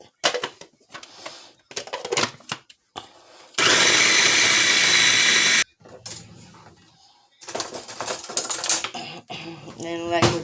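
A food processor whirs steadily for about two seconds while blending vegan alcapurria dough for Puerto Rican fried dumplings, with talk and kitchen handling sounds before and after.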